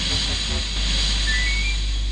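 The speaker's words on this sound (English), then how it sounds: "the firemen shoveled coal into the engine's boilers until all three engines were full of steam" Steam hisses loudly and steadily from three coal-fired steam engines filling a balloon, a constant close rush of noise.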